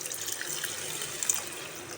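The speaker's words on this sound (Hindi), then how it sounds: "ये 1 गिलास में पानी ऐड कर रही हूँ इसमें।" Water poured from a glass into a pot of arvi curry, a steady close splash and trickle lasting the whole two seconds with no talk over it.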